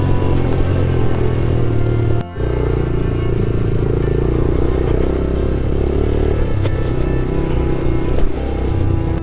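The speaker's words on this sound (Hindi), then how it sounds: "इस ट्रैक पर आपको बाइक की चीखें भी सुनाई देती हैं" A motorbike engine droning loudly and continuously close by on the steep Rumli off-road track in the Margalla hills, labouring with uneven revs and occasional clattering.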